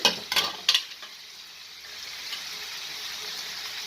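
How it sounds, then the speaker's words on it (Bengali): Onion stalks and potatoes stirred in a frying pan, with a few sharp scraping strokes at the start and then a steady soft sizzle carrying on alone. "এখন আমি পেঁয়াজ কুড়িটা দিয়ে দিচ্ছি সামান্য একটু নাড়াচাড়া করে দিলাম"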